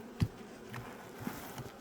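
Honeybees at an apiary during a package transfer buzz faintly and steadily, with a few soft thumps close by.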